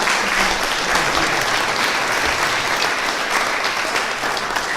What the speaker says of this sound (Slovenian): Pa ji lahko damo tudi en aplavz,